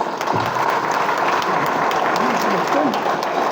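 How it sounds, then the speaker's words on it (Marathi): Sustained applause from a crowd, dense steady clapping throughout with some murmuring voices mixed in. "टाळ्या"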